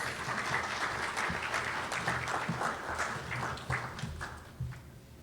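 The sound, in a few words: round of applause for the opening speaker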